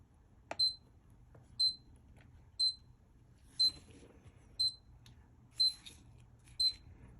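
A vintage Casio PRT-2 quartz watch from 2000 emits short, high, thin beeps at an even one-per-second pulse, seven in a row, close and clear over a quiet background.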